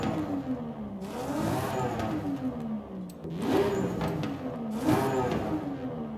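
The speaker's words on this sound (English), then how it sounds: "The street exhaust sounds infinitely better." A 90s car with a street exhaust revs repeatedly in Forza Horizon 5, three or four loud rising climbs in pitch with gear-change dips between, a throaty exhaust note close and alone.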